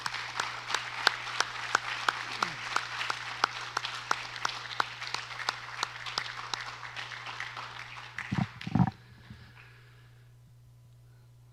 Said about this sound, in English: can we give our terrific staff and students one more round of applause?